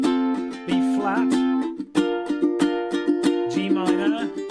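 Ukulele strumming solo chords, steady rhythmic strums moving through a minor-key chord progression, close and clear with no talking.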